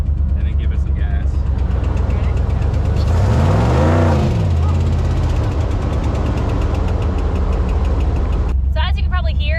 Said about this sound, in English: So as you can probably hear, it's a pretty bad lifter tick.